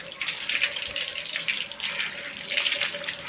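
Water sprays hard onto a Yamaha XSR 155 motorcycle during a bike wash, a steady close hiss that swells and eases as the stream moves across the bike.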